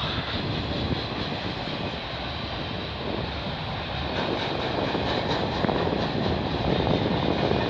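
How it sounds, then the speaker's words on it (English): A CP or CN freight train passes in Milton, Ontario, a loud, continuous rumble with rolling wheel noise that builds slightly toward the end, heard alone without talk. "This is my favorite train from Aldershot."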